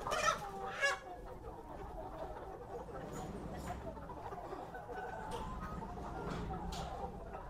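Free-range chickens fed on corn cluck and chatter in a coop at a Vietnamese poultry farm, with a few louder squawks near the start, while someone talks throughout.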